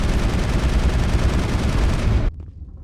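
Sustained burst of video game gunfire in Mass Effect, a dense continuous volley of loud shots that cuts off abruptly near the end, leaving a faint tail.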